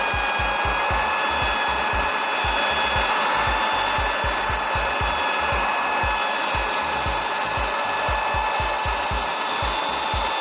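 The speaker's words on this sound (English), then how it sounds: "I'm gonna use the drill and just put a pad on that" A power drill fitted with a buffing pad runs steadily, polishing the surface of a Taito cocktail arcade table during restoration; a loud, continuous whine with a rapid low rhythmic thumping underneath, alone without voices.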